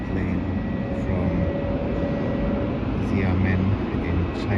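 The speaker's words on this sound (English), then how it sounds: "Xiamen in China that's just landing, and that is a Boeing 787" A Boeing 787 from Xiamen lands at Melbourne airport, seen from the level 7 Terminal 4 car park viewing area, its steady broad jet roar rumbling at moderate distance over constant background noise.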